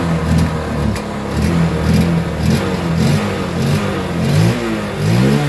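A TMX Supremo 150 motorcycle engine runs loud and close, revving up and down unevenly with sputtering misfires and rough, stumbling bursts of throttle.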